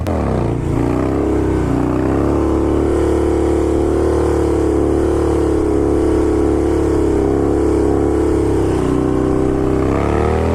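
A Harley-Davidson motorcycle engine revs hard during a wheelie, a loud, sustained, close roar that climbs at the start, holds steady for about ten seconds and briefly dips near the end.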